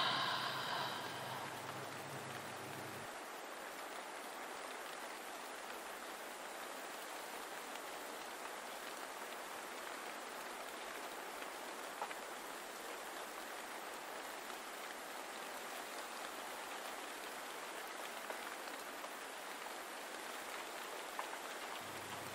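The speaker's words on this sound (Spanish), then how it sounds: "siente cómo la lluvia se vuelve más intensa" Steady rain falls through a bamboo forest, a dense even hiss of drops that holds constant throughout, with no voices.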